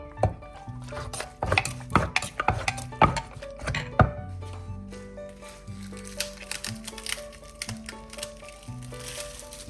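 Ingredients such as dried shrimp being dry-roasted in a pan for a Thai santol salad, with irregular scraping and clattering strokes of a utensil against the pan over a steady background tone.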